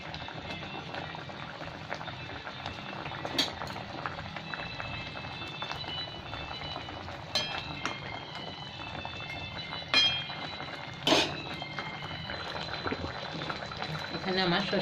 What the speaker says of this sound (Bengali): ঝোলটা ফুটবে, তারপরে মাছ তুলব।